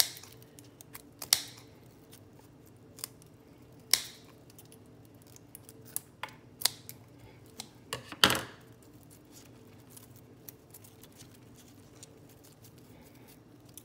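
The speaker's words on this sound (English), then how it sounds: "So I'm just going to cut the dead part of it that I see" Sharp scissors snip through rotten, dead orchid roots during plant maintenance, a few quiet isolated cuts spaced several seconds apart over a faint steady background hum.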